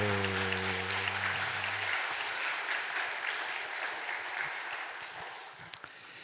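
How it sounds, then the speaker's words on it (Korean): A church congregation claps together in sustained, even applause filling the room, following a brief low held tone at the start and a single sharp knock near the end. "자, 응원과 격려와 칭찬과 사랑을 담고 힘차게 옆에 분 바라보며 박수."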